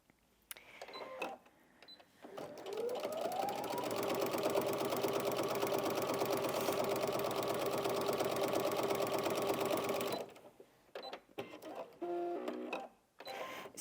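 Brother Inventio NV1850Q sewing machine quilting fabric, a steady mechanical hum that rises in pitch as it starts up, runs for about seven seconds and then stops, with clicks and handling noises before and after.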